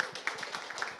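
An audience gives a short burst of rapid hand clapping at an indoor talk event, fairly faint and brief.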